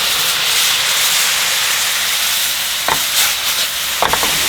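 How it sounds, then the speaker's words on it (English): White wine sizzling and simmering with mushrooms in a hot pan, a steady loud hiss broken by a couple of sharp clinks of stirring. "We're going to add a little bit of white wine. And let that simmer for just a little while."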